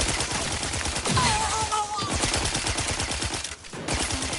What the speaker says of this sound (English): Automatic fire is really nice, though